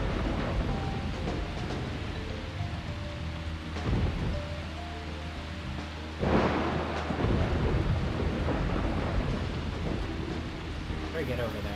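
Steady rain with rolling thunder in the game Deadly Premonition, a continuous downpour with a louder thunder swell midway, a distant rumble later, a person talking over it.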